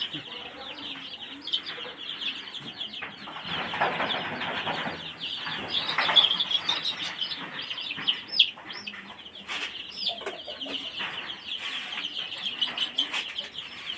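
Farmyard chickens and tiger-breed hens clucking and calling near and around, a busy ongoing chatter of fowl with faint voices in the background.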